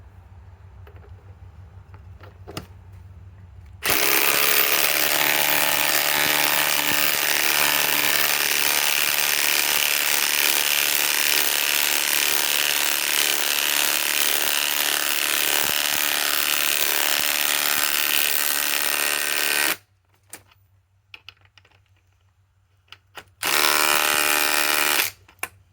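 Harbor Freight Hercules compact impact wrench driving 4-inch lag screws, a long loud rattling hammer burst of about sixteen seconds, then a pause and a second shorter burst, up close.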